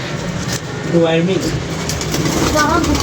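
Soft pigeon coos rise briefly in a couple of short rounded calls over a steady background hum, with someone speaking nearby on a foggy day among a flock of pigeons.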